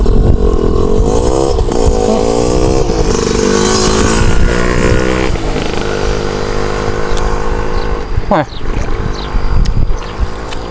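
Motorcycle ridden along a dam embankment road, its engine droning close and loud with rising and falling revs, gear changes and a sharp throttle burst near the end, under light wind noise.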